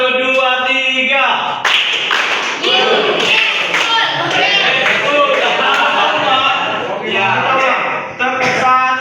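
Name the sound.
classroom rhythmic clapping pattern, one two three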